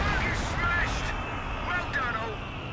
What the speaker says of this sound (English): Close range Sexton barrage